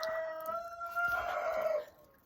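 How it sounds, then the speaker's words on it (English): A young rooster named Larry crows once in a single drawn-out, strained call at a backyard chicken coop near a compost pile, fairly close and clear, then trails off into quiet. "there's no rhyme or reason to his crowing yet"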